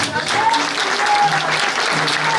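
A church congregation applauding and cheering for Jesus, dense sustained clapping filling the room with a voice talking over it.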